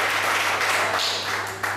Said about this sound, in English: One last time, clap it up for yourselves for doing outstanding.